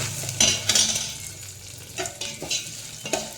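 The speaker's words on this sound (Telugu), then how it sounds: "ఈ పెసరపప్పు ఒక్కసారి వేచుతామండి" Moong dal frying in a pan with ginger, green chillies and curry leaves, a steady soft sizzle broken by repeated scraping stirs of a spoon against the pan, close and without talking.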